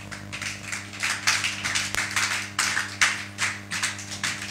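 Congregation clapping at a French-language Easter church service, a dense, steady patter of many hands over a low hum, swelling in waves throughout with no voices.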